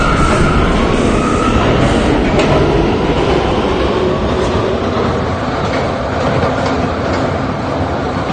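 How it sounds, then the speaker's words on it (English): An R179 K train on the New York subway runs at speed, with a loud, steady rumble of wheels and motors and faint clickety-clack over track joints throughout. "This is a Catlin-bound K train."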